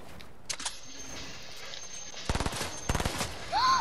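Gunfire in the video game Fortnite, heard as a few isolated shots early, then two dense bursts of rapid shots later, fairly loud over a faint background.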